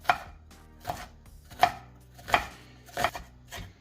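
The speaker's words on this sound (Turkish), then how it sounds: "ince ince kestiğimiz soğanlar" Knife chopping onion on a board, five sharp distinct chops spaced roughly evenly with quiet pauses between, close and clear, no voices.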